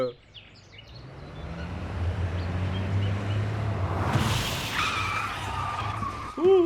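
A cartoon vehicle skids out of control, a long rising screech of tyres and engine noise that swells and then breaks off.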